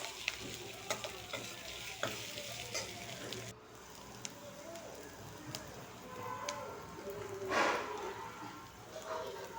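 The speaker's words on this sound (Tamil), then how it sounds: "இப்போ இதையும் நல்லா வதக்குங்க" Goat blood fry with curry leaves is stirred and sautéed in a pan, making a steady close sizzle with scraping strokes and a louder burst of frying near the end. A few faint sounds are mixed in.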